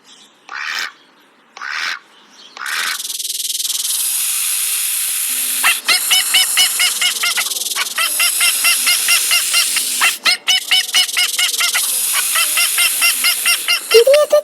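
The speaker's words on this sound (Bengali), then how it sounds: "হ্যাঁ রে, এটা তো একটা হাসির ডাক" A duck calls out in a jungle, with a few loud separate honking quacks first, then a long stretch of rapid, rhythmic, close quacking and chattering that fills the rest of the scene.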